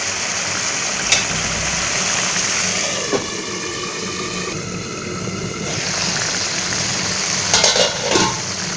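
Fish curry simmers under a lid in a pan, giving a steady, even bubbling sizzle that stays close and constant, with a few faint clinks toward the end.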